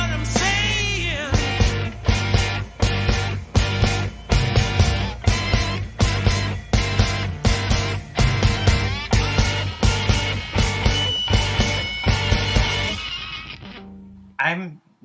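Wurlitzer-style electric organ chords pulse through a full song mix, struck in a steady repeating rhythm over bass and drums, loud and close, before the music cuts off near the end.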